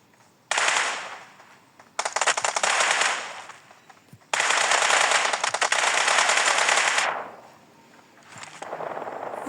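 Automatic gunfire in the mobile battle-royale game PUBG Mobile rattles out in long, loud sustained bursts, four sprays of rapid shots separated by short pauses, the last one quieter, with no talk over it.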